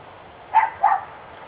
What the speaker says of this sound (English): And I apologize for that dog in the background.